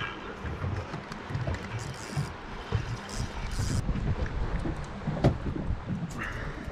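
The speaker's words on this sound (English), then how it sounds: "Wind's picking up a little bit" Wind gusting over a creek while fishing from an anchored boat, heard as uneven low rumbling buffets with a few brief knocks and splashes and no clear speech.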